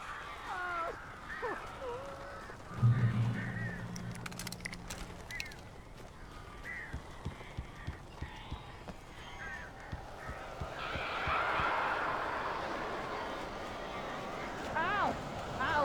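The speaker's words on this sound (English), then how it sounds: "These birds are weird." Crows caw in Alan Wake, harsh calls scattered through the scene amid game ambience, people talking, and other sound effects, with a louder rushing, fluttering burst near the end.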